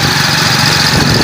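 A motorcycle engine idles nearby in a steady, loud, even rumble with a fine vibrating buzz, alone and without talk for just over a second.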